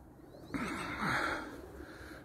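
A soft pigeon coo rises briefly over quiet background hiss, one low murmuring call heard close by.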